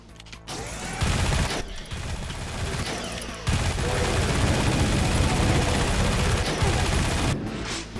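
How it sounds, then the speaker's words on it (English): A minigun in a Doom mod fires long, continuous bursts of rapid gunfire, loud and near, with brief pauses between the volleys and mechanical whirring along with the shots. "I got a minigun"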